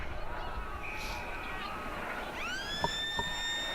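A siren sounds at an Australian rules football match, a rising tone that settles into a sustained horn-like note over steady crowd noise, with faint commentary beneath.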